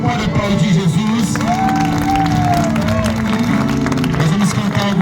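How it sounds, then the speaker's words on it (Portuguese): A church crowd at an open-air mission event in a Brazilian northeastern village applauds and cheers loudly and steadily, with voices and singing-like tones mixed through the clapping. "Você pode aplaudir Jesus?"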